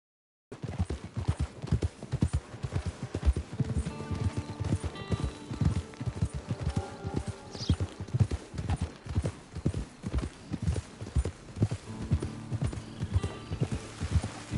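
Horse hooves clip-clop in a video game, a steady, rhythmic run of hoofbeats that carries on the whole way, joined by a faint whinny midway.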